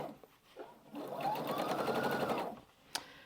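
A sewing machine stitching along the outer border of a table runner runs in one smooth, steady burst of rapid needle clatter, close by and fairly quiet, before stopping with a small click.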